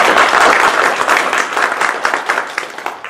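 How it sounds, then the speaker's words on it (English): Loud, dense applause from a room full of people at a town charter commission meeting in Fulshear, Texas, steady at first, then gradually thinning into scattered claps. "Let's give them a round of applause for their work."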